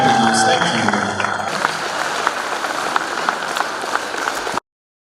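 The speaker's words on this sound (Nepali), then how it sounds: "जोरदार तालीले सम्मान व्यक्त गर्नुहोस्।" An audience at a beauty pageant grand finale applauds the chief guest, a dense, steady clapping that is loud and close, with a brief announcer's voice and music at the start before it cuts off.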